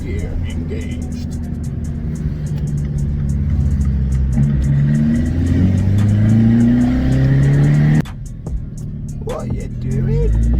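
An Abarth 595 fitted with a Toyosports exhaust and 200-cell sports cat accelerates hard in second gear, its loud engine note climbing steadily in pitch. It dips briefly near the end before pulling again.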